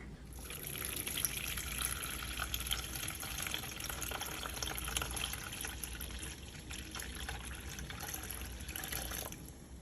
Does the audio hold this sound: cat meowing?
no